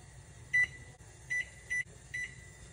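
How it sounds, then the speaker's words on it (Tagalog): A kitchen timer beside a steamer beeps in a pattern of single and paired high electronic tones, moderately loud, over a low hum of kitchen background noise. "Kitchen timer."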